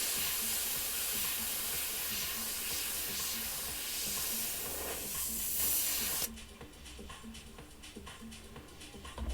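An airbrush hisses loudly and steadily under high air pressure, a broad continuous spray of air that cuts off abruptly partway through, leaving a softer background hiss with faint clicks.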